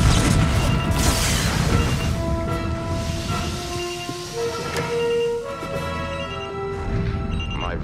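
Starship weapons firing in a Star Trek battle scene: heavy booming blasts and a rumbling roar, followed by sustained electronic tones and resonant hums that rise and fade.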